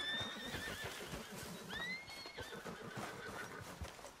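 A horse neighs and whinnies in the video game Red Dead Redemption 2, loud and close, with a couple of shrill calls and hoof clip-clops underneath.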